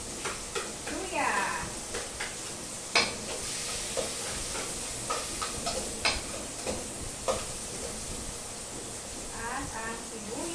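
Garlic and ginger frying in a pan for chicken curry crackle with a steady hiss, punctuated by scraping stirs and clinks of a utensil, while a voice is briefly heard nearby.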